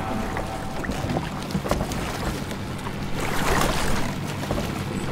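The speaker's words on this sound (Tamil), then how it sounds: "ஏதோ இன்ஜின் சத்தம் கேக்குதுல்ல" A Japanese boat's engine drones steadily at a distance, mixed with wind and water noise and no talking.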